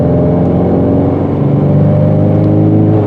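A 2020 Ford Mustang with the 2.3L four-cylinder engine drones loudly under load as it winds out toward high revs on an open road, a steady close engine note with no voices.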